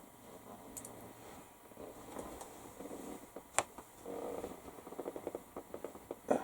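A cat purrs softly and steadily close by in a quiet room, with faint clicks and small handling noises around it.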